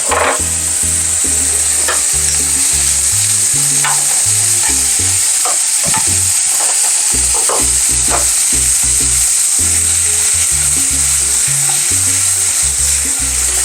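Half a jalapeno and other appetizer ingredients fry in a pan with a loud, constant sizzle, punctuated by repeated scraping stirs and taps, with no talking.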